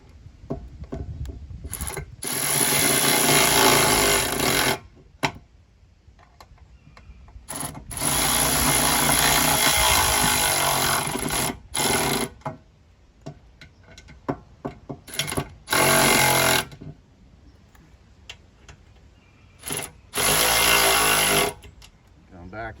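A power tool tightens bolts on a metal Jeep JK rear fender, with several loud buzzing bursts of a few seconds each separated by quieter gaps of handling noise.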